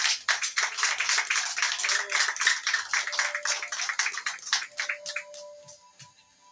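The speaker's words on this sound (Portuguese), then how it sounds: "E a igreja recebe o servo do Senhor com palmas bem alegres para Jesus." Lively applause from a church congregation fills the space, steady clapping that gradually thins out toward the end, with no talking over it.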